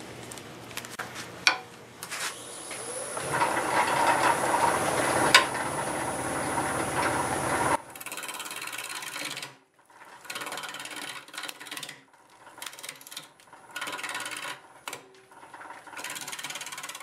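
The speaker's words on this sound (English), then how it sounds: "I'm going to get my 5/8 bowl gouge sharpened" A 5/8 bowl gouge is sharpened on a grinder for wood turning, a steady whirring hum with scraping, followed by intermittent bursts of grinding separated by short pauses.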